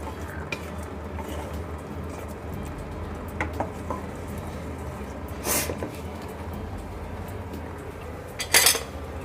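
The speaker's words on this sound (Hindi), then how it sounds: "और थोड़ा सा गरम मसाला ऐड कर रहे हैं, अच्छे से मिक्स कर देंगे हम।" A spoon stirs paneer masala in a pan, giving a low continuous simmering bed with a few sharp clinks of metal against the pan.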